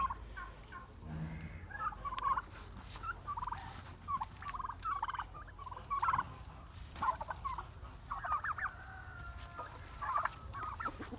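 Several young turkeys gobble and cluck repeatedly at a moderate distance, overlapping in irregular bursts over a low background hum.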